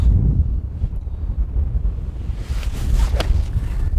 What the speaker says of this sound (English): Look at the wind on that.